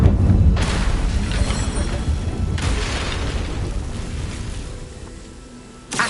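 In the video game Hogwarts Legacy, a Confringo spell goes off as a heavy booming explosion that rumbles low and loud, then a second blast follows and slowly fades into a long decaying roar.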